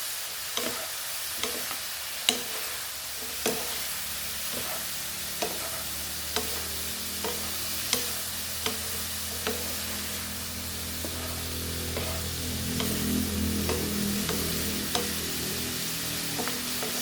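Bitter gourd (ampalaya) with chili frying in a pan, sizzling steadily under sharp, spaced scrapes and clacks of a utensil stirring, which grow busier and denser toward the end.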